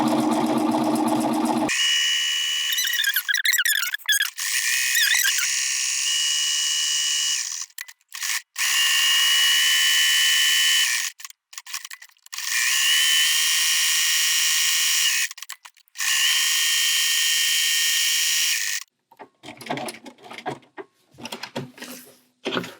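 A sewing machine stitches an embroidered garland onto a Christmas quilt block, its motor running in long, loud, steady high-pitched runs with abrupt pauses between them, then short stop-start bursts at the end.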